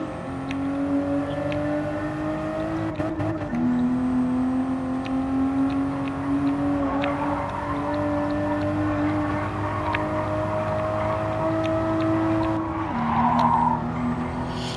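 Toyota Supra driven in a PS5 racing game, its engine droning steadily with gear shifts and rising revs, plus occasional tire squeal, with no voices.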